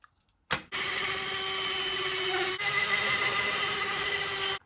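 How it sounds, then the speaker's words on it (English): A power drill bores into the centre of toy wheels for a Mario Kart diorama, one continuous steady high-pitched whine that starts abruptly and runs loud and close with a brief dip midway. "I'm going to drill into the centre of these wheels"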